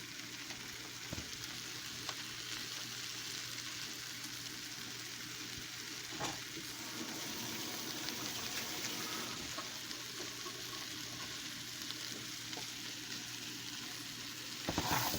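Chickpeas and green onions fry in a pan with a steady, close sizzle that holds for the whole stretch, broken by a few soft stirring knocks.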